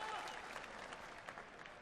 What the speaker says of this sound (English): The crowd trying to do their bit and get Suits back into this contest.